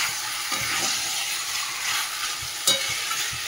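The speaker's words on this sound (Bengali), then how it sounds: "মাংসটা দিয়ে এবার ভালো করে কষাই।" Meat stir-fried in a pan gives a steady close sizzle, with scraping stirs breaking through the frying noise and one sharp clink near the end.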